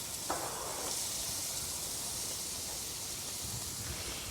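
Red peppers and onions sizzle in hot ghee or oil in a pan, a quiet, steady hissing fry with a brief louder crackle as they go in.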